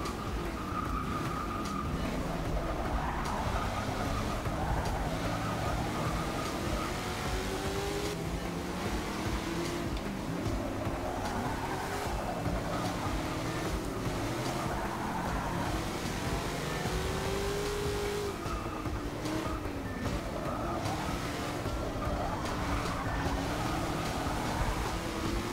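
Muscle cars race in the video game Forza Motorsport 6, with loud, continuous engine roar that rises and falls through revving and gear changes, close and unbroken for the whole stretch.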